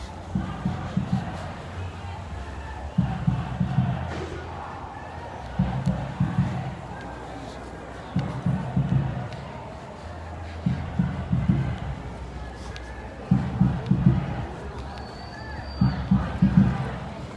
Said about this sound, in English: Coming up on a large crowd of people.